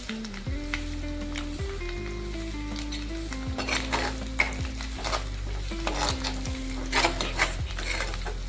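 Onion with ginger-garlic-chili paste sizzles in a pan while a utensil stirs and scrapes against the metal, producing repeated clinks and scraping strokes over a steady frying hiss, all close by, with no voices.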